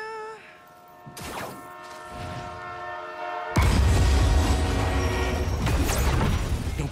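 A train in the Spider-Man 2 video game sounds a long, loud horn, then a heavy rolling rumble of the train surges in, with the horn returning over it near the end.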